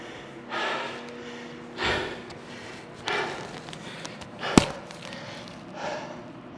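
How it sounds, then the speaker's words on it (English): Heavy, labored breathing from a mountain biker resting after riding uphill on a mountain trail, coming as about five separate loud gasping breaths spaced a second or so apart, close to the microphone and with no speech. "Sorry for the breathing."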